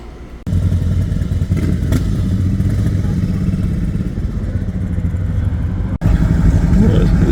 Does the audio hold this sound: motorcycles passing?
yes